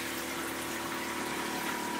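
Clean water running gravity-fed down a pipe from an aquaponic bio filter, a steady, even rushing gush with no breaks, close and fairly loud.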